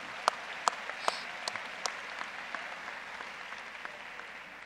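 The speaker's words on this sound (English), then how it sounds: "And so let's give them a round of applause." A commencement audience applauds for board of regents members. A few sharp claps stand out over a soft, steady bed of faint clapping that fades slowly.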